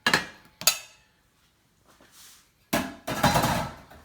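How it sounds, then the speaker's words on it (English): Pieces of pork tipped into a Saladmaster 5-quart wok for pork goulash: a couple of sharp metallic clatters, a quiet pause, then a louder burst of scraping and sizzling close up, with no talking. "I'm going to chuck all the pork in there."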